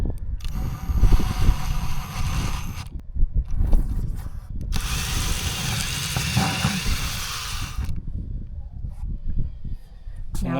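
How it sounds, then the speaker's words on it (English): A power drill with a hole saw grinds in bursts, biting through an RV roof with long stretches of high whine separated by brief pauses, loud and close. "I'm going to take my hole saw and I'm going to drill down."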